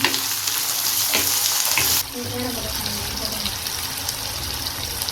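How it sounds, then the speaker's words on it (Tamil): Chopped tomatoes sautéing in a pan for Chettinad pepper chicken sukka, a loud close hiss that drops abruptly partway, then continues quieter with light stirring and bubbling. "தக்காளி நல்லா சாஃப்டாக வேகிற அளவுக்கு நல்லா வதக்கி எடுத்துக்கலாம்"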